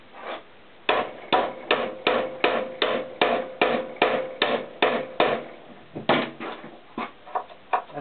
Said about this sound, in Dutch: Kunststof hamer van de Action.